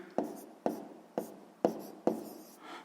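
A pen writes on paper in five short, evenly spaced strokes, each a close, soft scratch that starts with a tap and fades, while a math problem about fractions is worked out.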